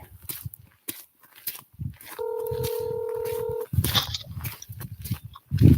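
Telephone keypad dialing an outgoing call: a single steady dual-tone beep holds for about a second and a half in the middle, framed by soft handling noises and faint background murmur before and after.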